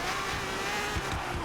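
A Lamborghini Murciélago slides, its engine note droning loudly and steadily through the whole stretch alongside a continuous rough tire noise, with no voices over it.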